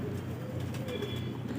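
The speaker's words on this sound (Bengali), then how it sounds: "দেখো বন্ধুরা, পায়রাগুলো কত সুন্দর।" Pigeons being hand-fed give soft, low cooing at close range, mixed with a faint background hum and a brief thin whistle-like tone.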